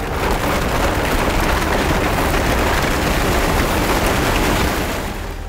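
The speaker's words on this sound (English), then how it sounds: "we flipped the car over and towed it on the roof." A loud, continuous scraping roar of an overturned car towed along a road on its roof, broad and noisy, holding steady before tapering slightly at the end.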